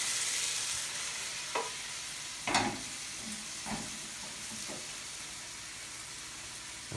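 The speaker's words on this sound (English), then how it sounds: "And we're gonna put the steak." A NY strip steak sears in a hot pan, giving a low, steady sizzle with a few brief clatters and stirring knocks scattered through, fairly quiet and with no voices.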